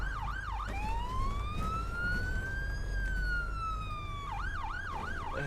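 A wailing ambulance siren in the OMSI 2 bus-driving game sweeps up and down in fast yelps, shifts into a long slow wail, then returns to rapid yelps, loud and steady over a low engine rumble, with no talk.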